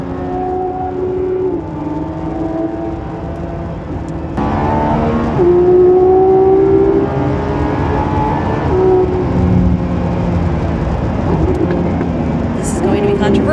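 A Lamborghini Revuelto V12 runs in Strata Recharge and then Corsa Performance modes, a loud tonal engine note whose pitch slides and shifts, jumping louder partway through and staying strong to the end.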